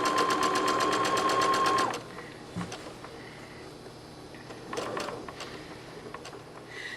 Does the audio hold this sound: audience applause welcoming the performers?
no